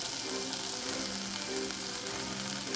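Salmon and shredded garlic fry in a hot pan with a steady, close sizzle and crackle that runs unbroken throughout, with no voices.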